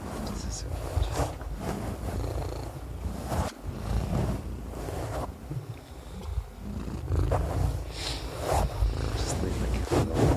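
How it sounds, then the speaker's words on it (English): A cat purrs in a steady rhythmic rumble of repeated breaths, close to the microphone, partly masked by rustling and people talking. "Just leave the cat alone"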